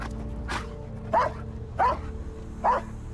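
A cadaver search dog barks during a forensic search, three sharp close barks spaced about half a second apart over a low steady background hum.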